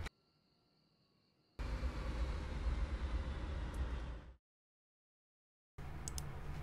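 Train approaching a siding in the game Train Sim World 2021: a steady low rumble of the train swells in, holds for a few seconds, then cuts off, and returns briefly near the end.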